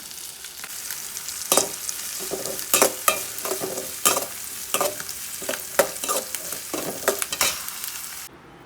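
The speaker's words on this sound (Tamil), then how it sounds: "நெய்யில் முந்திரியை வறுத்து எடுத்துட்டு அப்புறம் அதே நெய்யில் வெங்காயத்தையும் வறுத்து எடுத்துடலாம்" Cashews and onions frying in ghee, a steady close sizzle with repeated scraping and stirring strokes of a spoon in the pan, no voices.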